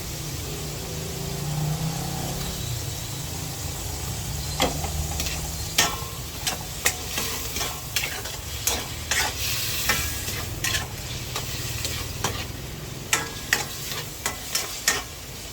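Tofu, mushrooms and oyster sauce are stir-fried in a pan: a steady close sizzle runs throughout, punctuated by repeated sharp clacks and scrapes of the spatula as the food is tossed.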